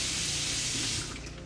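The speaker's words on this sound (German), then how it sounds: "das Wasser läuft ja ganz langsam ab" Water runs and gushes steadily into a clogged drain being cleared by a heating engineer, a broad close rushing noise that eases slightly toward the end.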